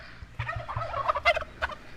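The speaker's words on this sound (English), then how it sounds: "These are our domestic turkeys" Domestic turkeys gobble in several loud, close, burbling bursts, with low thumping sounds underneath.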